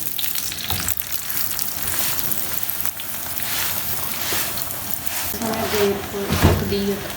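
A mooli paratha frying in refined oil on a griddle, giving a constant crackling sizzle under someone talking, with a louder burst of spitting near the end.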